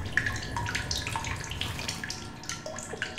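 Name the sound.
running fresh water in video game The Solus Project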